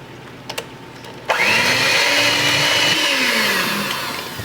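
An electric mixer whirs into citrus cake batter after a couple of soft knocks, a steady loud buzzing drone that wavers slightly in pitch and fades a little toward the end.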